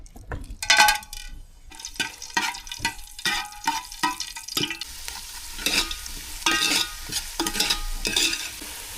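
Whole spices hit hot oil with a loud sizzle, then a rhythmic series of stirring scrapes follows over continued frying hiss.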